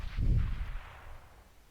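A grenade goes off in Counter-Strike: Global Offensive at an ESL Pro Series Germany match, one heavy booming blast that rumbles and fades out over about a second.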